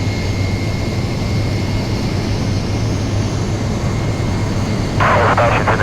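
Boeing 727 jet engines spooling toward takeoff thrust in a flight simulator, a loud steady roar with a thin whine held throughout, and a brief burst of higher noise near the end.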